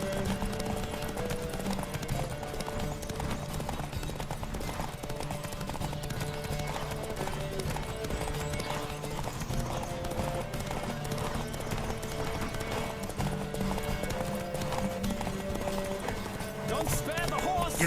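Galloping horse hooves pound in a steady rapid rhythm during a horse race in The Witcher 3: Wild Hunt, mixed with music tones and occasional voices over the continuous drumming.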